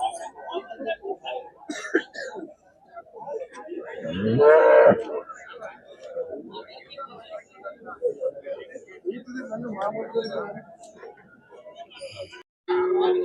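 Cattle at the Seenapuram livestock market in Erode district, with a loud close moo rising in the middle amid busy crowd chatter, coughing and general market bustle.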